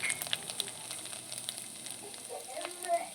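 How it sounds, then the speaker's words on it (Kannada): Mustard seeds and cumin crackle in hot oil for a North Karnataka recipe, with scattered sharp pops over a soft, steady sizzle at modest volume. "ಸಾಸಿವೆ ಮತ್ತು ಜೀರಿಗೆ ಒಂದು ಸ್ವಲ್ಪ ಚಟಾಪಟ ಅನ್ಲಕತ್ತಾವು"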